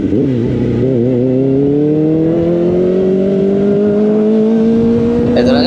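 A loud motorcycle engine running close by, its pitch climbing steadily as it revs and accelerates without a break.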